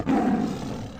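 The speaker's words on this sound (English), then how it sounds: "did the lion sound only play when the cat was actually touched with the mouse pointer?" A lion roar sound effect plays from a Scratch program as one short, loud, growling burst that fades away within about a second.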